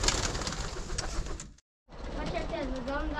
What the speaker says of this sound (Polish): Dajemy gołębiom jedzonko.